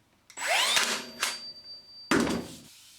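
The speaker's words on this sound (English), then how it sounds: "So I'll just fire another nail in there." A Tacwise Ranger 2 angled finish nailer fires a nail into wood, sharp mechanical bursts with a whirring drive and a thunk, followed by a second short burst.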